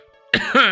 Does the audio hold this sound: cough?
yes